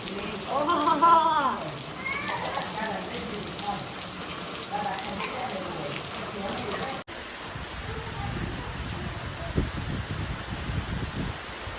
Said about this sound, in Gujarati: તો વરસાદ તો જામી ગયો